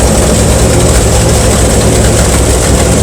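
A 1964 Ford Falcon Sprint engine idles roughly and loudly at close range, a dense steady rumble with no pauses throughout.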